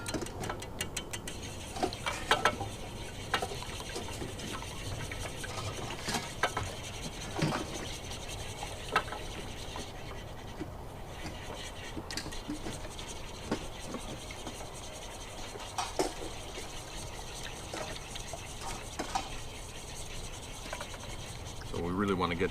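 A small whisk from a camp kitchen set beats milk and eggs for French toast in a bowl, producing faint, quick, steady ticking and scraping strokes that continue almost unbroken.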